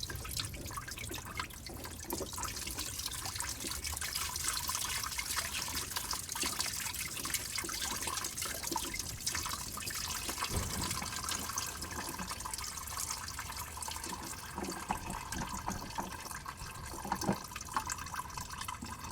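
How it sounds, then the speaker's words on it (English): Fuel dripping and trickling from a car's plastic-capped fuel filter into a drain pan, a continuous faint liquid patter and splashing heard close and steady throughout. "You want to make sure you have your drain pan ready to catch any drippings."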